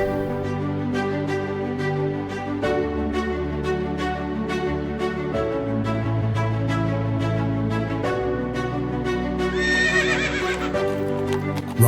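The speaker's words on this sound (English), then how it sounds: "Riding a horse through this beautifully desolate valley" A horse in a desolate desert valley clip-clops along with a regular hoofbeat rhythm and whinnies, set against a steady tonal background.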